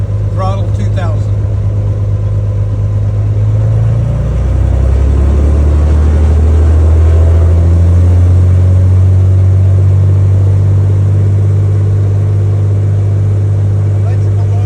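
A Cessna T210N aircraft engine running during a ground test at 2000 RPM, a loud, steady, low droning roar that rises in pitch as the throttle comes up and then holds, with voices talking over it.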